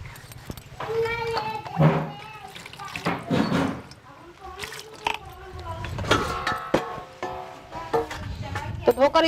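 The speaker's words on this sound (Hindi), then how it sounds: "ये पहले इसको मैं धो लेती हूँ अच्छे से, ये टमाटर साथ में भी धो लेते हैं" Zucchini and tomatoes rinsed under running tap water in a home kitchen, with splashing and clattering in bursts while someone speaks over it and children's voices sound in the background.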